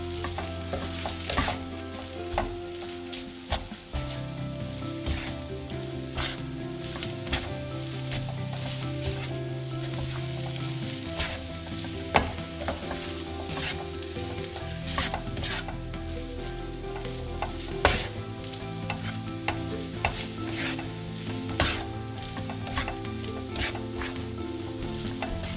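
Sisig sizzles loudly and steadily in a pan while it is mixed, with scrapes and clicks of a utensil breaking through the constant frying crackle, over background music.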